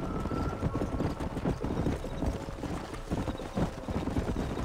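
Horses in the Red Dead Redemption video game clip-clop along in a continuous, uneven patter of hooves at moderate distance, with faint wind and no speech.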